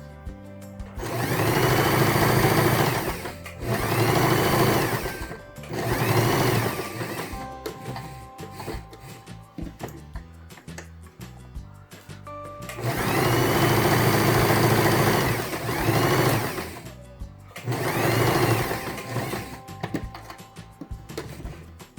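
A sewing machine stitches the side edge finishing on a fabric baby bib with pacifier holder, running in several loud close bursts with short pauses and quieter handling between them, no talk.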